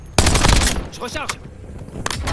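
Gunfire in the video game Call of Duty Warzone: a loud burst of rapid automatic fire, then a quieter stretch with radio-style game voice lines, and another short burst at the end.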